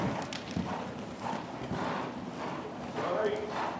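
Horse hooves step in a steady clip-clop rhythm during a riding lesson in an arena, moderately close, with an instructor's voice talking over the footfalls.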